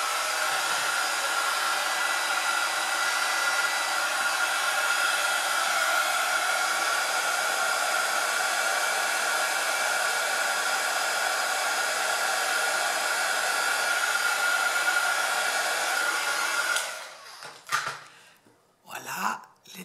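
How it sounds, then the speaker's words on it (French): A heat gun blows steadily while melting white embossing powder, giving a loud, even hiss and whir for about seventeen seconds before it cuts off, followed by a few faint handling clicks. "je vais faire fondre cette poudre blanche avec le pistolet chauffant"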